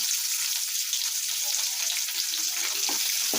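Onions go into peanuts frying in a pan, a loud, continuous close sizzle with bright crackling over a steady hiss, no speech.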